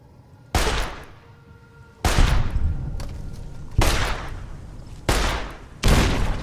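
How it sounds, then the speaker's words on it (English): Grenade explosions and gunfire in the modded Fallout New Vegas video game: five heavy booming blasts at irregular intervals, each trailing into a rumbling decay, loud and close. "Stop with the grenades."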